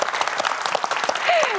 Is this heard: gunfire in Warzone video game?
no